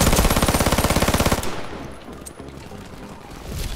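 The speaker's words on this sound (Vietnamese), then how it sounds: "Cái này bắn khá êm chứ" Uzi Pro submachine gun in a shooter game, firing one rapid, evenly spaced automatic burst of roughly a dozen and a half shots for about a second and a half, then cutting off into quieter game ambience with a faint distant pop.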